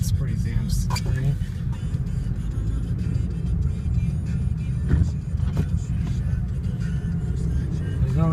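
A car drives on a slippery snow-covered road during a snowstorm, its engine and tire noise a steady, loud rumble throughout, with a few brief clicks and knocks.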